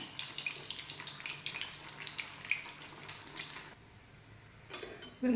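Corn vada frying in hot oil, giving a steady hiss with crackling bubbles that thins out toward the end before a louder clatter.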